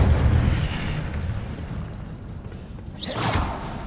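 The Incendio fire spell is cast in Hogwarts Legacy, a brief rising whoosh followed by a fiery burst near the end, over a low rumbling background.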